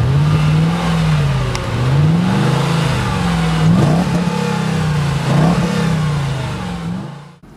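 A 1999–2000 Mercedes C43 AMG engine revving, loud and close, with a repeated rising and falling pitch as the throttle is blipped several times, then fading at the end.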